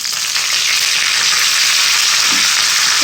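Dried red chili and curry leaves crackle in hot oil with popped mustard seeds and urad dal, a dense, bright sizzle heard up close and continuous, with no talking.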